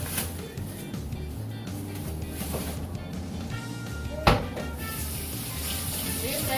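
Hands are washed under a running tap, giving a steady, close rush of water with a brief clunk partway through.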